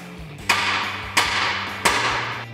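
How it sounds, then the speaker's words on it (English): Three sharp, loud hammer blows ring out at an even pace, metal striking a 2009-2014 Ford F150 tie rod end to separate it from the steering knuckle, with a low hum in the background. "we're going to take a hammer and we're going to separate."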